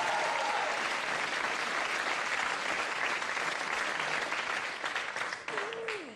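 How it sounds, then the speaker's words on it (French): Sustained audience applause, loud and steady throughout, a dense crowd clapping that thins slightly near the end. "On applaudit Cyril Big Jim."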